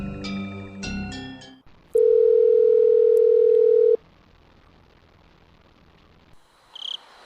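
A telephone ringing tone in the Higurashi visual novel video game sounds as one steady two-second tone, loud and alone, after a short run of chiming game notes, followed by quiet hiss.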